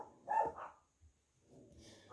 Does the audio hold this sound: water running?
no